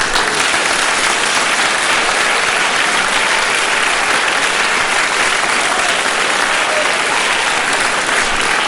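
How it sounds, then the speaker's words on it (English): A large audience at a community festival event claps steadily and loudly, a dense unbroken wash of applause that holds at full strength throughout. "I want to give a round of applause to Ms."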